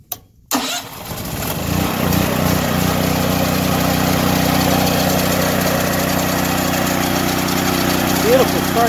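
A Duromax XP12000EH 12000-watt hybrid generator running on propane starts after a short crank. It settles into a loud, steady, close mechanical drone.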